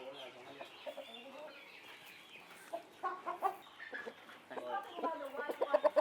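A purebred Dong Tao chicken from Hung Yen clucks in a run of soft, irregular calls that grow louder and quicker toward the end, with faint voices nearby.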